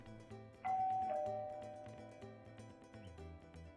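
A two-tone doorbell chime rings once, bright and clear, its tones fading slowly over a soft background murmur.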